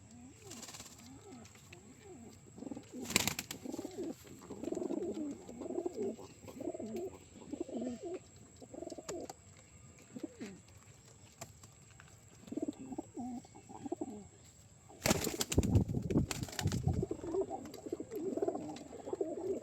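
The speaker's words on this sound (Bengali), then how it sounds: "সব ম্যাড্রাস এগুলো ম্যাড্রাস পায়রা" Madras pigeons, including young birds, coo in repeated low throaty bursts near the listener, with a few loud clattering knocks breaking in and faint background noise throughout.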